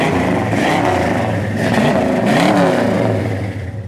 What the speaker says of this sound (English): Good sound and dual exhaust